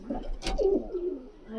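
A high-flying breed pigeon gives a short soft coo, close and brief, preceded by a quick rustle or handling noise.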